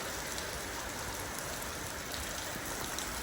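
Heavy rain pours down in a steady, dense hiss with no pauses, close and even, with no voices over it.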